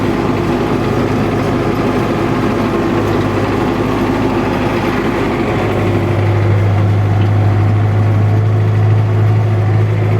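An MTZ tractor engine running steadily under load at field work, a close, continuous low diesel drone that deepens and grows slightly louder partway through, with no voices.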